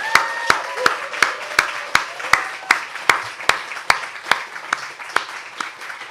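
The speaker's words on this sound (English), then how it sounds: "can we give a round of applause?" A live audience at a Resistance GB event claps for about six seconds in steady, sharp, evenly spaced beats that stay close and fairly loud, with no talking over it.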